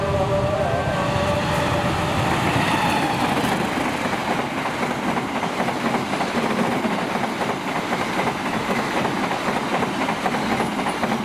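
A passenger train hauled by locomotive 203 rushes past at high speed on an Indonesian line, a loud continuous roar with rapid clickety-clack of wheels over rail joints that holds steady throughout.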